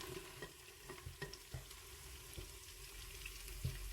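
Onions dropped into a pan of fried green peanut lentils, a low sizzle with soft stirring clinks and scrapes, faint and close, with no voices.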